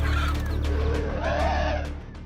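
A hen clucking loudly and agitatedly while defending her chicks from an attacking eagle, harsh close calls in quick succession with no speech.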